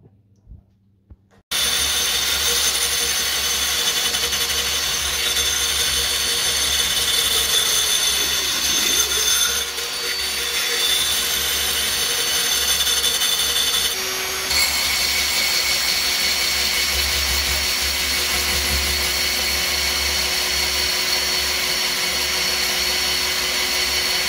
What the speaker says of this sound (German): Und die schleife ich mir jetzt mit meinem Akkuschrauber mit Schleifaufsätzen ab.